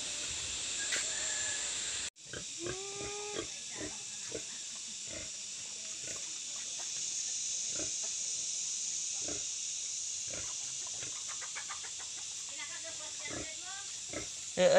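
Piglets oinking and squealing on a Philippine farm where piglets are being collected, repeated short grunts and squeals at close to mid distance over a steady hiss, with people talking now and then.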